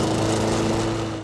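A lawn mower runs steadily and loudly close by while mowing the grass field of the old Tigers Stadium ballpark, its engine drone constant before cutting off at the end.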